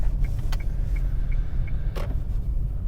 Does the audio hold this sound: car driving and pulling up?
yes